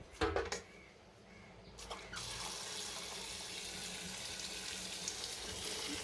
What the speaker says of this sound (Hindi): अब मैं डालूँगी पानी।